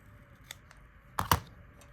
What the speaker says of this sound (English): And then I will cut off the excess.